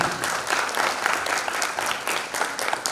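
A crowd bursts into loud, sustained applause, dense clapping from many hands that continues steadily throughout.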